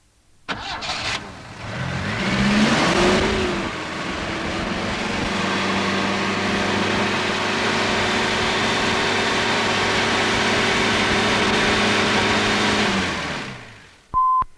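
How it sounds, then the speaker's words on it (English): A Lucas Major Four tractor engine cranks and fires, then revs up and holds a steady, loud drone near 3000 rpm for around ten seconds before being shut off. "Start the engine and increase the speed to approximately 3000 revs a minute."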